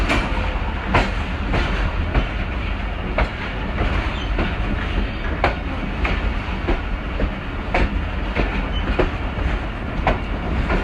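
The Hazara Express rolls into the long main platform at Sargodha Junction, a loud continuous rumble with steady clickety-clack wheel beats repeating close by.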